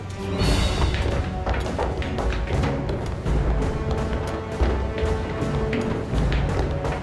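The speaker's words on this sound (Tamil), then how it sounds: "நான் சொன்னதும் கவுண்ட் டவுன் சீக்வன்ஸ்ல அணுகுண்டுகளை வெடிக்க வைக்கணும்" Nuclear bombs detonating in a countdown sequence in the Hollywood film Earth Under Fire, heard as a loud, continuous run of heavy thuds and crashing booms layered over a deep rumble, with no speech.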